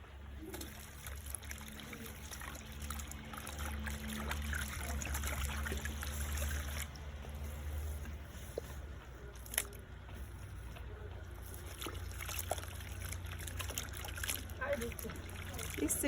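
Wet cassava mash for fufu is sieved by hand, with steady squishing, trickling and splashing of water close by and a person talking over it.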